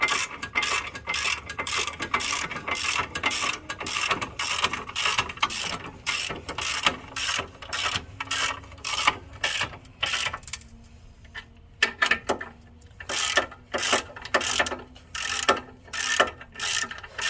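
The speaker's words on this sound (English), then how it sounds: "I got a 1/2 inch ratchet with the 18mm. We're just gonna go ahead and tighten these up" A 1/2 inch ratchet with an 18mm socket tightens front brake bolts on a 2015 Jeep Patriot, a fast rhythmic run of sharp clicking strokes up close, pausing briefly partway through and then resuming.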